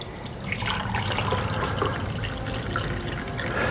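Hot apple cider is poured into a cup, a continuous close liquid splashing and trickle that runs for several seconds with small drips and clinks.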